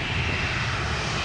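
A jet engine roars close by in a dense, steady blast of wind and thrust noise that fills the whole moment without letup.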